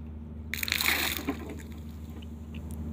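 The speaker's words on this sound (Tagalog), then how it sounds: "Magigib muna ng tubig." Seawater is scooped by hand, giving one close splashing slosh that rises abruptly and fades over about a second, followed by faint trickles over a low background hum.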